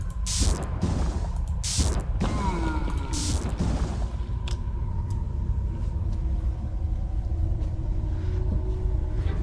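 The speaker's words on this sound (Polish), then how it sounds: "Uderzenie pioruna." A lightning strike spell in the video game Arcanum crackles with a few sharp bursts followed by a deep rumbling boom that fades out, with brief clicks afterward.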